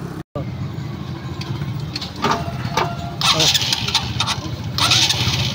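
A Honda CB tricycle motorcycle with a faulty electric starter cranks and catches, its engine settling into a steady idle that swells a few times as the throttle is blipped, heard up close.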